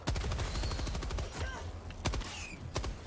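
Rapid power-weapon gunfire in the video game Helldivers 2, dense bursts of automatic shots with sharp cracks and a few whooshing effects, loud and close throughout.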